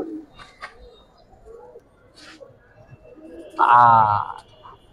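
A black checker racing pigeon gives one loud, close coo near the end, after quieter cooing and people talking nearby.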